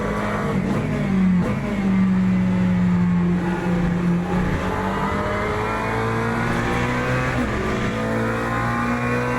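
A Mustang race car roars at Bahrain in Le Mans Ultimate, a loud, steady, deep engine note holding close and strong, with other cars' engines blending in.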